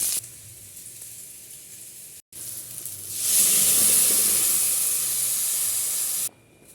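Small onions and fennel seeds dropped into hot oil after popping mustard seeds, for a karunai kizhangu (elephant yam) dish: a sudden loud burst of hissing sizzle swells midway, holds steadily for about three seconds, then cuts off.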